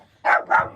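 A couple of dogs barking twice in quick succession, two short loud bursts close by with no talk over them.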